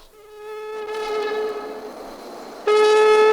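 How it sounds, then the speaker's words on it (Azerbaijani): A Baku Metro train pulls away from a station with a rising electric motor whine, then a louder, steady high tone cuts in as it accelerates. "Bakı metrosunun ilk qatarı yola düşür."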